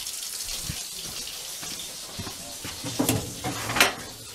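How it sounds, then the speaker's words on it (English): Hot water running from a tap fed by a newly installed EcoSmart 8 tankless electric water heater, a steady hiss and splash with some clinks and handling noises nearby. "Turn on some hot water and see what happens."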